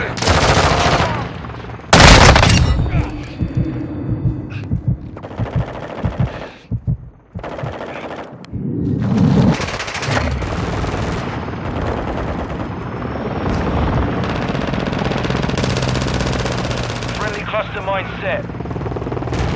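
Gunfire in the video game Call of Duty: Modern Warfare, with bursts of automatic fire and single loud shots mixed with a helicopter-like drone and a battlefield din, and voices calling out radio-style chatter in between.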